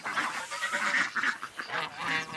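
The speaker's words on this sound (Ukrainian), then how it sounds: "І ось це, здається, гусочка." Geese honking and cackling close by, a busy run of overlapping nasal calls with no talking.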